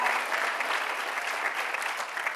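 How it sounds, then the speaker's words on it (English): An audience applauds in a sustained, dense round of clapping at a New York political event on passing the Reproductive Health Act, steady and fairly loud throughout with no pauses. "Let's give her a round of applause."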